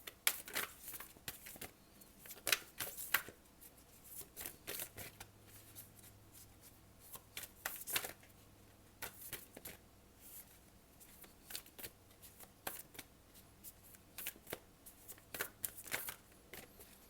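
A Gita deck of cards being shuffled for a reading: repeated riffles and papery flutters in uneven bursts, close and fairly quiet, with short pauses between handling sounds and no talking.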